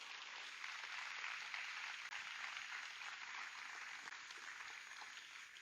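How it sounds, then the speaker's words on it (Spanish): Congregation applauding for Jesus Christ during a Sunday church service, a steady wash of clapping from many hands filling the room at moderate level for several seconds. "Denle un fuerte aplauso a Jesucristo,"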